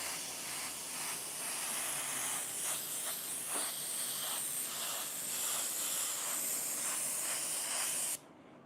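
A spray paint can hisses in a long, nearly continuous blast with slight pulses as it coats a beach scene, the steady spray cutting off abruptly near the end.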